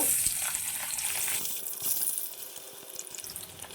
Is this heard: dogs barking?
no